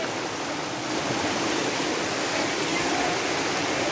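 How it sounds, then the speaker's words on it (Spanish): River water rushing steadily as people wade across, a dense, continuous roar close by with no break across the few seconds. "aquí tenemos a Rocío pasando el río"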